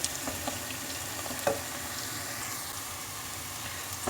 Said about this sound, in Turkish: Biraz yağda kavuracağım.